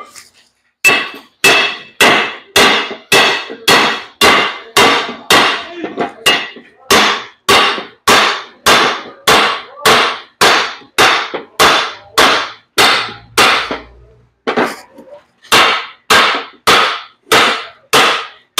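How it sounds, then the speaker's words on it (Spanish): Hammer blows on a 4-inch cardan driveshaft tube, loud sharp metallic strikes in a fast steady rhythm of about two per second, close up with a brief pause midway. "Vamos a darle golpes aquí en el tubo."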